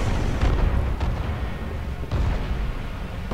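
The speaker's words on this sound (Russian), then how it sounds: "И смотрите, как давление вырастает. И эта хрень, насос, взрывается." Pump blowing up in the video game Homefront: The Revolution: loud, dense booming blasts with heavy low rumble, a burst near the start and another around two seconds, continuous and with no talking.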